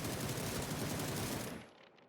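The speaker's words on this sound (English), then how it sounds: "The gunshots coming back in the exchange now on my screen" Rapid automatic gunfire in a competitive online shooter match rattles in dense, continuous bursts for about a second and a half, then cuts off into a fading, quieter tail.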